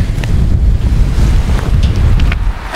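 Strong wind roars across a hilltop summit, buffeting the microphone with a loud, continuous low rush and occasional gusty bursts. No voices are heard.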